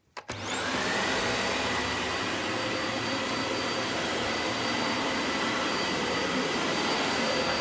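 A Dyson Light Ball Animal upright vacuum switches on and runs on its middle setting over household carpet, spinning up quickly into a loud, steady whine with a brush-bar hum, close by and uninterrupted.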